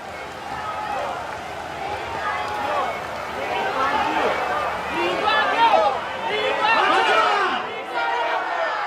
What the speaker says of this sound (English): Very moving images and sounds of crowds shouting emotionally, Mr. Lee Kuan Yew